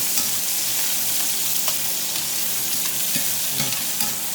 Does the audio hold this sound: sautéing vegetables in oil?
yes